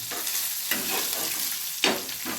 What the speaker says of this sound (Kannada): ಒಣ ಮೆಣಸಿನ್ಕಾಯಿ ಒಗ್ಗರಣೆಗೆ ಹಾಕ್ತೇನೆ ರೀ.